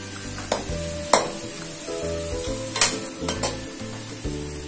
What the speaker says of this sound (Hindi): और इन्हें मैं लाइट गोल्डन होने तक कुक कर लूंगी।